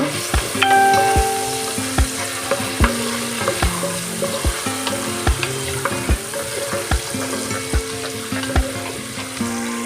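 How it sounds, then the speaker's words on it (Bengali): Paneer frying in a pan with turmeric and salt: a loud continuous sizzle under rhythmic spatula strokes knocking against the pan roughly every half second, no speech. "পনিরগুলো সব ভাজা হয়ে গেছে"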